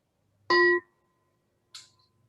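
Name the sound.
meditation bell struck to begin Zen talk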